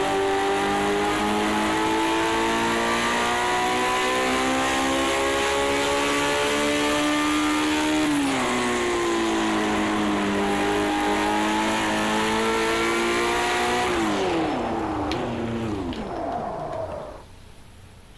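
A Lotus 78 race car on a circuit, engine loud and close, revving up through gears in long rising sweeps with a brief shift drop midway, then pulling away and fading at the end.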